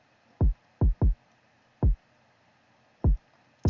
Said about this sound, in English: this is the kick with our plugins